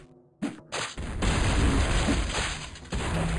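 Cannon blasts in the Total Annihilation: Kingdoms strategy game, a sharp pop followed by a dense, rumbling burst of booming fire lasting a few seconds.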